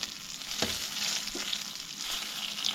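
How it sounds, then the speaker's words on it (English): Small creek fish frying in a pan of oil, a steady close sizzle and crackle with a few sharper pops, running alone without talk. "we're just gonna let them fry up, dude"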